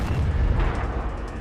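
Explosion sound effects from Modern Warfare 2: a dense, booming blast with a heavy low rumble, loud and close throughout the short burst.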